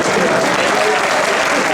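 An audience at a Hindi poetry gathering breaks into loud, close, continuous applause, a dense and even burst of many hands clapping at once.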